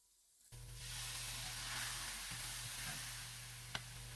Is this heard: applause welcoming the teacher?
no